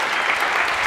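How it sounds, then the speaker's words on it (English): A live audience claps for Corey, a volunteer at a Backyard Brains neuroscience demonstration, in a steady, dense burst of applause that fills the whole second without any voice. "please give a big round of applause for Corey for helping us out here"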